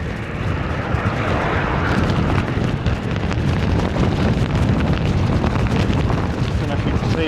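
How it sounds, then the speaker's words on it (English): Strong headwind on an outdoor bike ride near Oxford and Abingdon, a loud continuous roar and buffeting across the microphone throughout. "it's pretty windy, and of course it's a headwind pretty much all the way"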